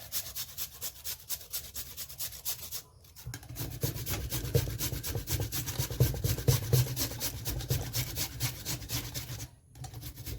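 Peeled raw potatoes being grated on a hand grater over water, a steady rasping scrape repeated in quick strokes, close and fairly quiet, with no talking.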